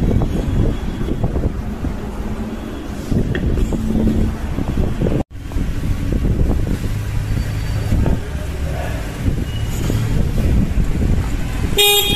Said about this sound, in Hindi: ये है अकॉर्डियन प्रीकॉल का हॉर्न है, प्रीकॉल सिंगल पीस लगा रहे हैं।